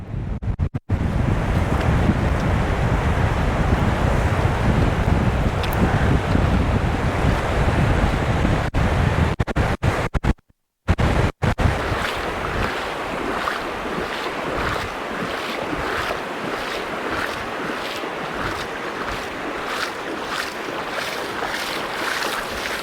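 Sea waves and strong wind at the shore while wading into the water, a constant loud wash of surf with heavy wind buffeting the microphone and a brief dropout midway.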